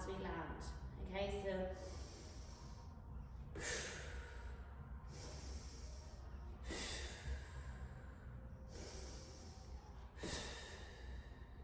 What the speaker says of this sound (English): we're just going to practice the exhale as we land